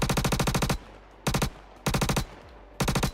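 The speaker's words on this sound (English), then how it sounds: "This whole idea of Gemini having ridiculous gunfire is awesome." The Gemini gun in Star Citizen fires in four rapid automatic bursts, each a tight string of loud, sharp shots separated by short pauses.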